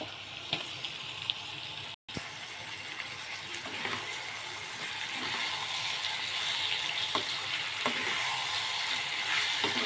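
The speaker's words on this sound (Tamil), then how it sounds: "தக்காளி நல்லா வதங்கணும். நல்லா தக்காளி வேகட்டும்." A continuous crackling sizzle of tomatoes frying in a pan, with scattered sharp pops and a faint clatter near the start, growing slightly louder.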